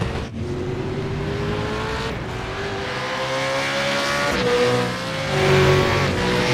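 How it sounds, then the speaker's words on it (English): V8 Supercars race cars in a racing video game, engines droning steadily with rising and falling pitch as cars come onto the track for a qualifying session, loud and continuous with no talk. "But the first cars are coming onto the track now."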